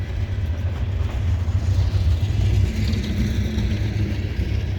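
CSX coal train led by locomotive C703 passing in snow at Bartholows, Maryland, a loud, close, continuous low rumble and roar of engine and rolling wagons that holds steady for several seconds.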